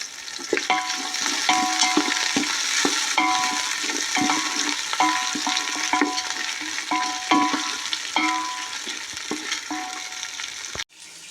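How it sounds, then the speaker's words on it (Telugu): Sliced medium onions and green chilies fry in oil for prawn biryani, a steady loud sizzle with repeated scraping stirs of a spoon against the pan, no voices. "మళ్ళీ పచ్చిపిచ్చి వేస్తున్నాను ఉల్లిపాయ వేస్తున్నాను సన్నంగా చీరుకున్న మీడియం సైజు ఉల్లిపాయలు వేస్తున్నానండి"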